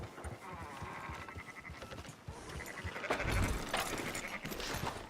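Sheep bleating in Red Dead Redemption 2, several wavering bleats from a small flock, moderately near, over a busy ambient background of game sound.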